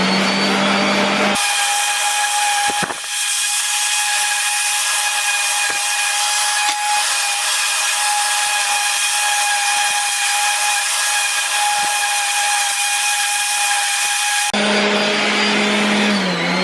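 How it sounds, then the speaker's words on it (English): Power sander working wood boards for a rustic shelf, a loud steady high-pitched whine running continuously for most of the clip with constant grinding friction, no talk. "now I just sand these down to roughly the same kind of look"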